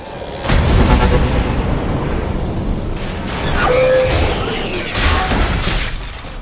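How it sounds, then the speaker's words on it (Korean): A loud, sustained rumbling blast with crackling, rolling bursts that swell and fade over several seconds, like a cinematic explosion: an EMP detonation in a science-fiction film. "본은 자신이 전기를 흡수, 전도시켰던 능력을 기억하고 쓰러진 로봇의 전기를 이용해 EMP를 폭발시켰죠."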